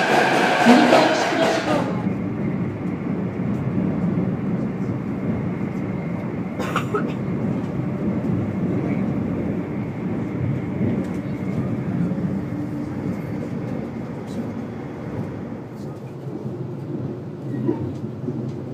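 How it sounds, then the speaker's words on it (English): A Narita Express train passes at a station as a long, steady roar and rumble that slowly fades, with a brief exclamation near the start. "Narita Express. Take me with you. What's coming?"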